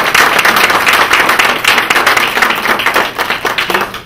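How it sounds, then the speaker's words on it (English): Audience at a community engagement session in Komoka applauding two presenters, Tanya and Frida; dense, close clapping in a steady roll lasting several seconds with slight swells. "So again, let's give a round of applause to Tanya,"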